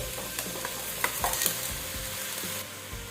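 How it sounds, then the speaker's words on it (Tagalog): Vegetables including string beans, okra, radish and eggplant being stirred in a frying pan, with repeated scraping strokes over a steady sizzle, close and moderately loud, no talking. "Haluin natin."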